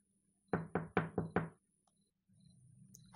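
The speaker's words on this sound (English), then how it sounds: "the servant's knock woke" A servant's knuckles rap on a door five times in a quick, even burst, loud and close, followed by a quiet stretch and a faint low room murmur.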